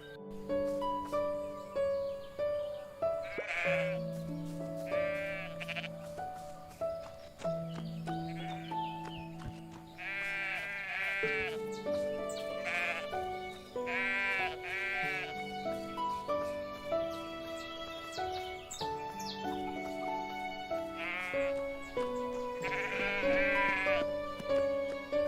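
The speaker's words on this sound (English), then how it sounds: "That's nice sheep. Nice sheep." Sheep bleat repeatedly in the open-world farming game Everdream Valley, quavering cries layered over a steady melodic background music track, with horse-like clip-clop and neighs mixed in, no talking.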